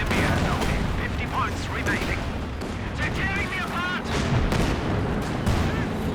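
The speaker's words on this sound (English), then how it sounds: "There's some flame mortar support" Flame mortar fire in a 4v4 Company of Heroes 2 battle, dense booming artillery and gunfire blending into a loud continuous barrage, with a commentator talking over it.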